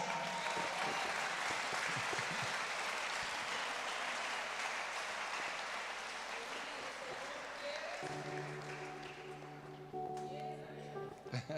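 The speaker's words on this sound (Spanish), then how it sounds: "Dale una ofrenda de palmas" Congregation applauding during a church sermon, a steady broadband wash of clapping for the whole stretch, with a sustained keyboard tone entering near the end.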